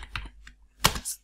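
A few quick keystrokes on a computer keyboard, soft clicks followed by a sharper pair of taps near the end, close and quiet in an otherwise silent room.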